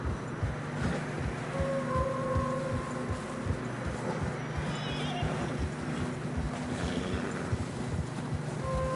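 Horses walk through fresh snow in the Red Dead Redemption 2 video game, their hooves giving steady soft clip-clops alongside wind noise and a low ambient drone, while a voice speaks over them.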